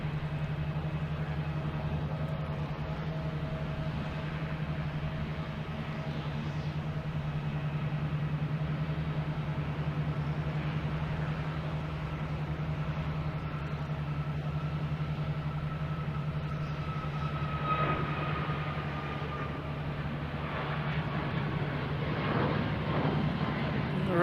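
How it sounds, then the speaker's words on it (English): An American Airlines Boeing 737 MAX 8 jet takes off from Boston Logan Airport, heard as a steady, distant engine roar with a low droning tone that slowly builds in the last seconds, with faint voices now and then. "next we have American Airlines Flight 3090 heading to Chicago, 737 MAX 8"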